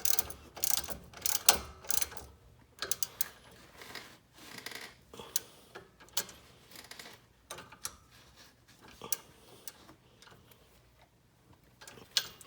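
A ratchet wrench snugs down the bolts of a Rough Country 2-inch lift kit on a Jeep Renegade, giving close, irregular bursts of quick metallic clicking with short pauses between strokes.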